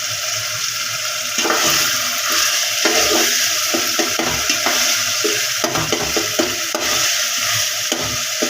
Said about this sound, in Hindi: इसकी भुनाई थोड़ी देर तक और कर लें।